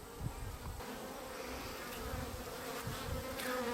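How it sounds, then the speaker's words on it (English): Agitated honeybees in a top bar hive, a steady higher-pitched buzzing hum that swells slightly louder over a few seconds, close by with no talking. "Can you hear the change in sound for those bees? That higher pitch indicates that they're a little bit agitated"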